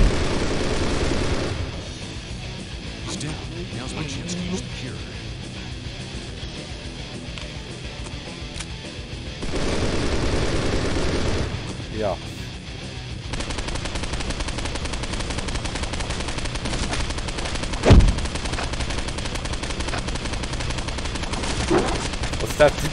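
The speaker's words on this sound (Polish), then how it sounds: "W końcu broń palna coś zadaje." Firearm gunfire in the Postal 2: Paradise Lost video game, a dense, continuous roar of rapid shots and bursts with a few louder swells and sharp cracks throughout.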